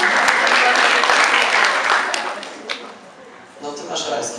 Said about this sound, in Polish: Dziękujemy bardzo, wielkie brawa